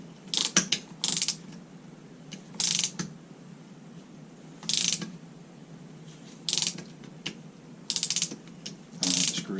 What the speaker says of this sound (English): It rotates until it hits the catch for the unit that you want to pop.